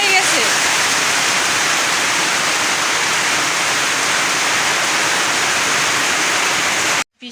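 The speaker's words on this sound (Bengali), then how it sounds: "বৃষ্টি পড়তেছে" Heavy rain falls in a loud, steady, unbroken wash of hiss that stays even throughout, then cuts off abruptly near the end.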